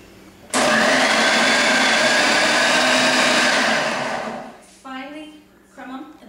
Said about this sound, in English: I put them in a food processor. I tore these up already. It's gonna get really loud.